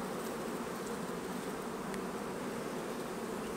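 Honey bees buzzing densely around a Bailey comb hive frame holding capped brood, a close, continuous swarm hum with no pauses and no voices.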